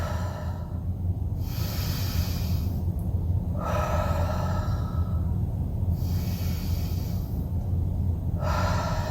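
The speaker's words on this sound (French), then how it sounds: "Grande expiration, on essaie de dégonfler le ventre." Deep slow breaths in and out during a home relaxation exercise, several long airy exhalations and inhalations over a steady low background hum, no speech.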